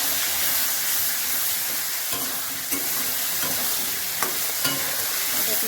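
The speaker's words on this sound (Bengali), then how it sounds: "দেখুন, এবার আমি এই আদা বাটা দিয়ে দিচ্ছি।" Ginger paste frying in a pan for a silver carp fish curry, a steady close sizzle and hiss running throughout with a few faint stirring clicks and taps of a spatula.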